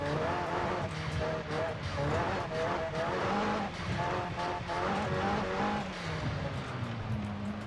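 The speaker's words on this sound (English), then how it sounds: "That's just so much fun to go sliding around" Car sliding and drifting on dirt in Forza Horizon 5, engine revving with tire noise throughout, loud and close, while people talk over it.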